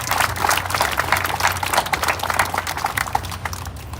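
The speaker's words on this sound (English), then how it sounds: "So a huge round of applause for Jo and Dr." A crowd claps for Jo and Dr. Pichard's family at the ribbon cutting of the 2025 Du Quoin State Fair, a steady, dense round of applause that holds throughout.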